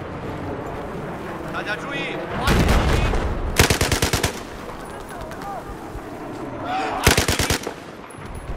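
Light machine gun fire in Battlefield 4, heard as two loud bursts of rapid automatic shots. Explosions and battlefield noise run underneath, and voices come and go in the background.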